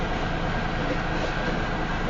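A long Union Pacific grain train passes close by north of Elkhart, Iowa, giving a steady, loud rolling roar of railcars on track that stays continuous and unbroken throughout.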